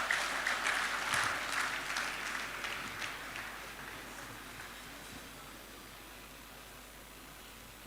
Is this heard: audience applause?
yes